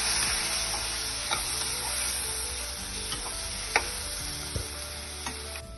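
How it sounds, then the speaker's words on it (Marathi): A semolina, coconut and milk mixture sizzles steadily as it roasts in a pan, with occasional soft scrapes and taps of the spoon stirring through it. "रवा, खोबरं आणि दूध याचं मिश्रण आपण आता छान भाजून घेतलेलं आहे"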